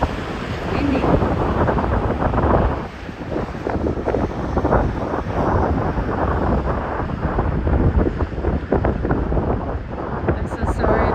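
Strong gusts buffeting the microphone outdoors on an open town street in spring, a loud continuous low rumble that dips briefly and then surges again.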